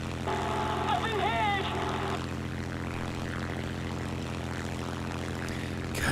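A German propeller plane drones with a steady, low engine hum and buzzing harmonics in War Thunder arcade combat, continuous and moderately loud, with a short burst of other game sounds near the start.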